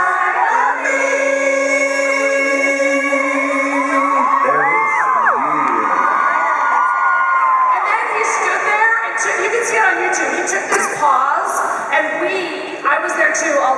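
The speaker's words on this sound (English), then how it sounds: "all just screamed for like 2 solid minutes" A concert crowd in Vegas screams and cheers continuously, a loud, dense wall of high-pitched shrieks and whoops from many fans that keeps going without a break.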